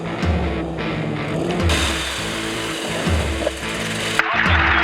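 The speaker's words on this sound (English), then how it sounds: "the sound you can hear behind me is our hovercraft" A hovercraft engine runs steadily close by, a loud continuous droning roar with low pulsing throb and broadband wind-like noise, rising slightly in places.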